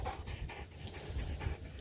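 A Belgian Malinois pants hard after repeated running, quick rhythmic breaths close to the microphone, steady throughout with no talking.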